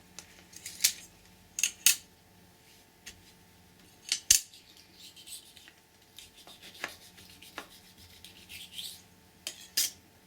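Scissors snip out a shape for silkscreen crafting with embossing powder, producing irregular, crisp close-up cuts and rustling spread over ten seconds, with no voices.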